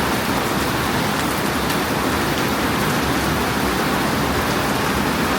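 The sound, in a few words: rain falling on a patio in Tuktuk Siadong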